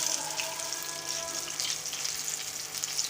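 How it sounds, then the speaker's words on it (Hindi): Banana chips frying in hot oil, a steady bright sizzle with crackling bursts that hold at an even, close level throughout, with no talking. "बिस्मिल्लाह, फ्राई कर लेंगे हम इसको"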